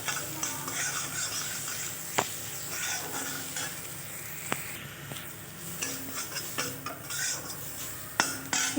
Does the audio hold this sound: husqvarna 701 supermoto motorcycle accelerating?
no